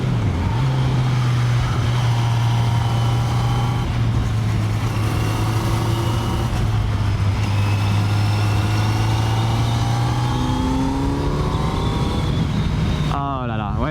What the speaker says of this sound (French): tu as ce moteur qui a son bruit rageur là. Quand tu fais une accélération, le bruit t'enrobe